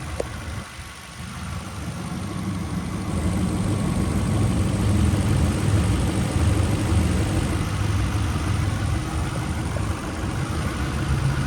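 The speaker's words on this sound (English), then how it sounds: "But that's your motor. Running smooth, as you can hear." The engine of a 1999 Lexus LS400 idles under the open hood, a smooth, steady low hum recorded up close and running evenly throughout without speech.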